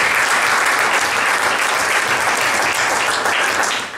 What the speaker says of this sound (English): So please give a round of applause for these guys too